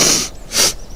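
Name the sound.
reader imitating a pig sniffing a bucket of mud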